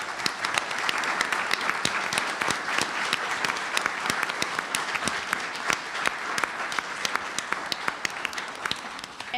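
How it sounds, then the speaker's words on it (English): Audience applause for police officers at a school board meeting: a sustained, even burst of many hands clapping that runs strongly for nearly ten seconds. "So can we give them a round of applause, please?"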